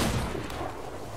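A single booming gunshot in Sea of Thieves, loud and close, with a brief rumbling tail.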